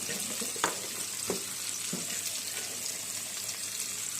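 Chow mein with chopped green chilli stir-fried in a pan gives a soft, steady sizzle, with a few scattered clicks of a spatula against the pan and no talking.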